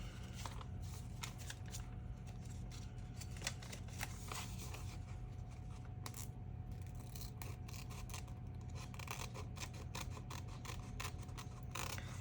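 Small scissors snip and rustle through paper while a gluebook mini zine is being made. The short crisp cuts repeat close up in an irregular run, with paper handling between them.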